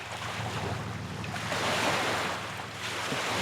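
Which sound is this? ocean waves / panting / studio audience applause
ocean waves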